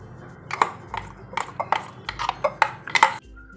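A spoon clinks and scrapes against a bowl while sabudana chutney for a fasting dosa is scooped in. There are several quick, close metallic taps in an irregular rhythm, with no voice.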